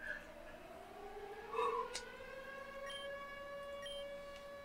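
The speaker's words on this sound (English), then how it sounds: "Alarm sirens. That is bad." Rising and falling alarm sirens in the Pokemon Uranium video game's power plant wail over a low background hum, with a brief voice-like sound partway through, moderately loud and sustained throughout.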